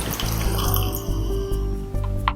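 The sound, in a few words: pouring water into millet drink mixture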